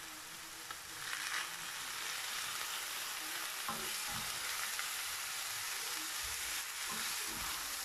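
Vegetables seasoned with coriander, cumin, salt and turmeric sizzle steadily in a hot pan while a utensil scrapes and stirs them in occasional bursts, with no talking.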